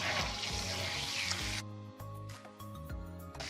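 Steaks sizzling in a hot pan just pulled from the oven, a loud crackling hiss that cuts off abruptly partway, followed by quieter clinks and background music.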